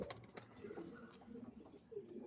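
Pigeons of a breed sold as top-quality Andhra, Arshad and black-line birds coo softly and intermittently, low and muffled, with a faint background hiss and a brief louder burst near the end.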